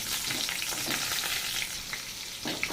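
Whole spices, bay leaf and whole onion fry in hot oil for a chicken dish. The sizzle is steady and crackling, with a few louder pops and stirring scrapes, close up and with no talking.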